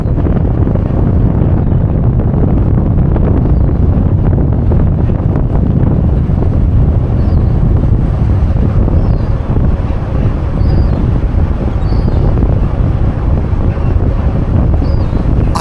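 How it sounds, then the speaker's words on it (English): Loud, constant wind roars and buffets across the microphone on the stern deck of a ferry at sea, a heavy rumbling gust that never lets up, with faint distant cries of birds barely audible beneath it. "it's bitter and windy out here"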